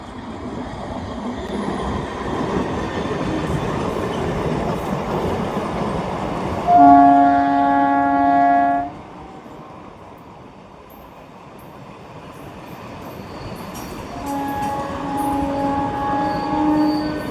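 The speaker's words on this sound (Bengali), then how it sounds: "ট্রেনটা চলে গেল এখন এই ট্রেন চলে যাবে তারকেশ্বর" A train on the Arambagh–Goghat rail line rumbles past with a continuous roar, sounding its horn loudly in a sustained blast midway, then fading before a second horn blast rises near the end.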